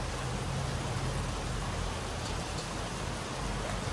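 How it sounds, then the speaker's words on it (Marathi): Steady rain pours down during a wet, cancelled motorcycle ride, a dense, even hiss that holds without a break, with a low rumble underneath and no voices. "अजून काय पाऊस थांबला नाही."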